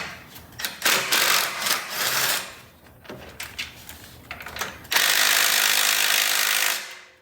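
Bolts holding the turbo being loosened with a ratchet on a Subaru WRX, close bursts of rapid clicking ratchet strokes in several runs, with one long continuous spell at the end.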